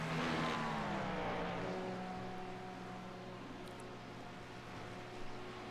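Racing video game engines in an IMSA race, with a Ferrari GT3 and other cars at close quarters, a loud revving engine pitch sliding downward and then holding steady.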